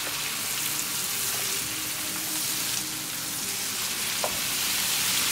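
Shrimp curry with bell pepper sizzling in a pan as it is stirred and fried, a steady rain-like crackle close by with an occasional scrape, and no voices.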